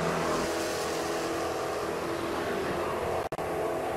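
A Ram drag racing vehicle launches down a True Street drag strip at Atlanta, a sustained, fairly distant engine roar rising in pitch as it accelerates, steady and unbroken before a brief dropout near the end.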